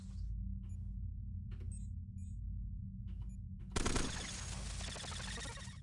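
Gunfire in the sci-fi roguelike game Cogmind: several sharp synthetic shot blips come in short bursts over a low drone, then a loud dense burst of electronic noise rings on to the end.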